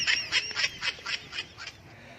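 A turkey gobbles in a quick, warbling run of about eight loud, close calls with no other sound around them.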